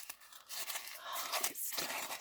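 Paper being crumpled and scrunched by hand to age a vintage-style handmade card, a run of crisp crackling and rustling bursts close by, with no talk over it.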